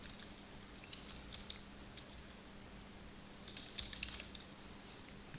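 Faint, light tapping on a computer keyboard while entering text in a GUI builder, with short clusters of soft key clicks under steady background hiss.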